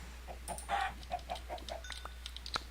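A chicken clucks in a modded Minecraft game, a run of short clucks over about a second and a half with a few chirps and a soft electronic tone near the end.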